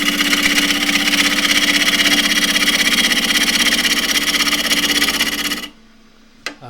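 A wood lathe runs at just over 1,000 rpm truing up the sides of a glasses stand, a loud steady droning hum with rhythmic rasping and rattle that cuts off near the end, followed by a faint click.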